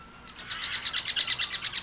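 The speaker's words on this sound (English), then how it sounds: "The birds that flourish here are woodland species rather than cliff dwellers" Woodland birds call in a short run of bright, high, repeated chirps that ring out steadily and fairly clearly over a quiet background.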